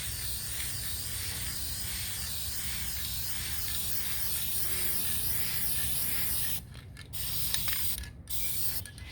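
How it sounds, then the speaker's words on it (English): A spray can hisses in long continuous bursts close up while coating a leaf-covered junk journal cover, broken by brief pauses near the end. "let me give it a much better spray."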